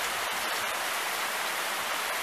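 Steady rain falls throughout at moderate level, a dense continuous hiss with no other distinct sounds and no talk.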